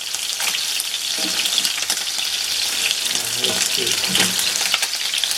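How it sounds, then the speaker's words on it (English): Rack of lamb sears in a hot pan, giving a steady, close, broadband sizzle that holds throughout, with a few faint clinks and low murmurs beneath it. "Always searing the meat."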